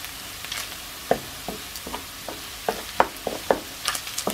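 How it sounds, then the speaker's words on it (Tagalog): Garlic frying in a pan for adobo with pork belly and string beans, a soft sizzle punctuated by repeated scraping stirs and clicks close by, with no talking. "matostado ng konti itong bawang"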